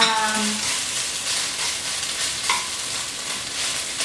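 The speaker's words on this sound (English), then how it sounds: "you're just going to saute. You're going to get your veggies" Vegetables sauté on high heat in a pan for a vegan chickpea curry, giving a steady, close, fairly loud broadband sizzle with a few light clinks from stirring.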